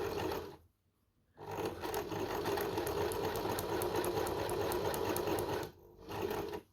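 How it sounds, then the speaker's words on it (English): Electric sewing machine stitching fabric for a free-hand cut tunic top, a steady close mechanical whir with rapid needle clatter running in two bursts separated by brief pauses, no talk. "Continue sewing."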